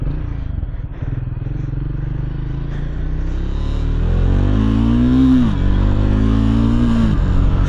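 Triumph Speed 400 motorcycle engine running steadily up close, building to louder revving in the second half with two rising throttle blips near the end, a dense low rumble throughout.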